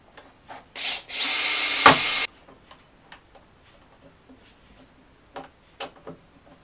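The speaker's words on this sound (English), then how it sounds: "then we're just going to take a 4mm drill and drill the pilot hole." A power drill boring a 4mm pilot hole in a 3D-printing workshop, one short loud whirring burst of about a second, surrounded by faint scattered clicks and handling taps.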